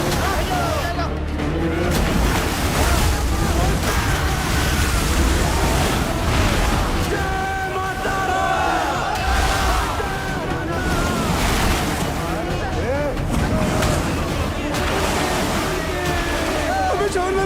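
Water in a jungle river rushes and churns steadily, a loud, continuous roar with wind buffeting the microphone and people talking faintly under it throughout.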